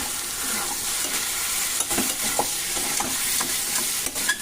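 Chicken liver and potatoes stirred in a hot frying pan, a loud continuous sizzle with spoon scrapes and clacks against the pan recurring every half second or so, no voices.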